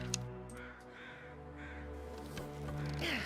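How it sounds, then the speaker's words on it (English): Crows cawing in the wintry wilderness of The Long Dark, Interloper difficulty, several harsh calls scattered over a low wind-like ambient bed, moderately distant. "I'm hearing crows"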